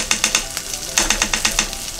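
Sweet bean sauce sizzles in a hot pan for mapo eggplant, with a steady frying hiss and quick rhythmic scraping as it is stirred, close up and with no talking.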